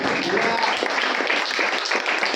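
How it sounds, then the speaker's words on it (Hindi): A church congregation claps enthusiastically, a dense, close clatter of many hands with a voice faintly mixed in underneath. "ताली जोर से बजाइए ना"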